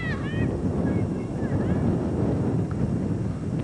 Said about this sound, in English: got a lot of wind blowing out here, as you can tell